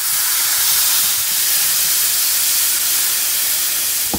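Water poured into a pan of hot frying rice for red rice, a loud continuous steaming hiss and sizzle close by, without talk.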